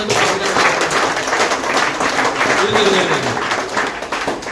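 Steady crowd applause fills the whole stretch, dense and continuous, with a faint voice or two under the clapping.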